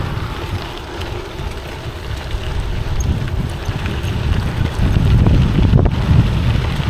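Headwind roars across the microphone while a gravel bike is ridden along a rural road, a loud, continuous rushing buffet that strengthens toward the end, with no voices.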